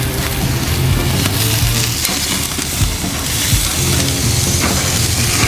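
Steaks frying and sizzling on an outdoor cooker on a warm, humid, cloudy day in Foley, Alabama, a steady broadband hiss with low crackles running unbroken throughout.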